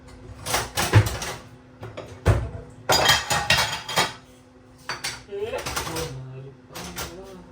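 Dishes and cutlery clatter and clink in bursts as they are handled and washed, with a person talking intermittently over the noise.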